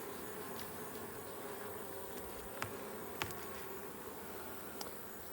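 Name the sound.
agitated honeybees buzzing at the hive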